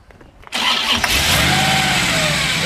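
A 1967 Chevrolet C10 pickup fitted with an Edelbrock dual-quad setup and a gear drive cranks briefly, then catches and settles into a loud, steady idle, close up and with no talking over it.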